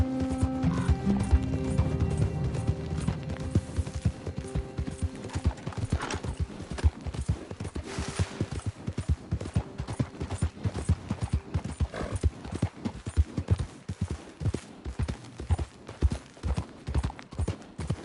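Horse hooves galloping in Red Dead Redemption 2, a fast steady clip-clop rhythm running throughout, with a brief neigh and mechanical rattling early on.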